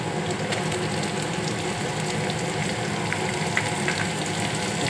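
Chopped onion frying in a pan with curry leaves while making mushroom masala, giving a steady, close hiss of sizzling oil that runs evenly throughout with faint scraping clicks.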